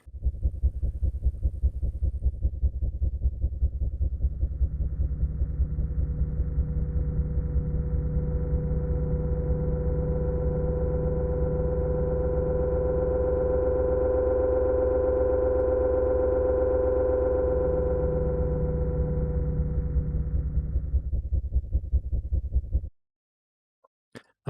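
A designed car engine and exhaust effect for a game: a steady, buzzing tonal drone held for over twenty seconds, a muffled pitch swell in the middle, then an abrupt cutoff.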